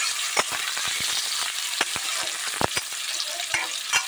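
Three chopped onions frying in a pan for a jackfruit gravy, a steady hiss of oil punctuated by repeated sharp spatula scrapes and taps at an irregular stirring rhythm, close by.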